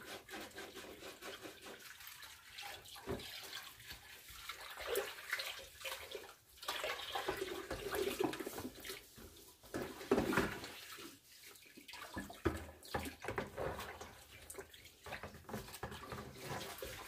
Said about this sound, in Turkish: Gıcır gıcır yıkadım